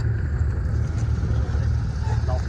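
A Porsche 997 GT3 RS with a 3.8-litre engine and aftermarket exhaust idles close by, giving a steady low rumble throughout with faint voices underneath.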